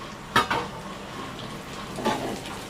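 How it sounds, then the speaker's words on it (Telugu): Bitter gourd pieces tipped into a cooking pan, a couple of clattering knocks and scrapes of metal close by, then a softer clink a moment later over faint background hiss. "ఇప్పుడు కాకరకాయ ముక్కలు వేస్తున్నాను"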